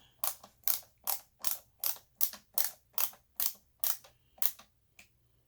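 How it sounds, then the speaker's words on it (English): Screws being driven into a Shark NV351 vacuum cleaner's plastic housing by a screwdriver, producing about a dozen evenly spaced ratcheting clicks, close and fairly quiet against a faint low hum, with no talking. "I'm just going to put in all the screws real quick"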